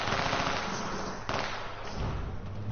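AK rifle fire in the survival shooter H1Z1, a dense, rapid crackle of shots with one sharper, louder crack partway through, heard close with no talking.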